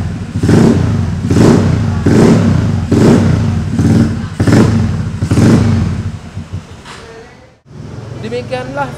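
A modified-carburetor Vespa Sprint scooter idles very low with a pulsing putter, its rhythmic throbs repeating about once a second before the sound shifts and a voice briefly cuts in.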